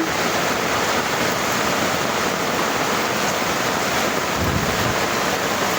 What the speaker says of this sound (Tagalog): Ang laki na ng tubig.